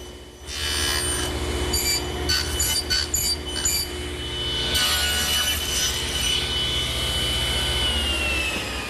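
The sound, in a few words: table saw with tenon cutter cutting mesquite tenon cheeks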